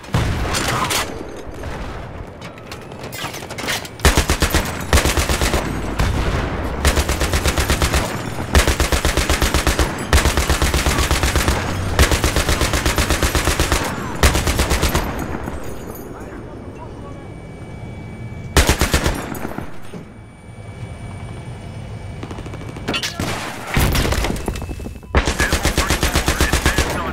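Heavy .50 caliber tank-mounted machine gun in Battlefield 3 fires in long, loud, rapid bursts nearly throughout, with brief pauses between volleys and a voice talking over the gunfire.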